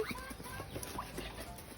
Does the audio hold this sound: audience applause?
no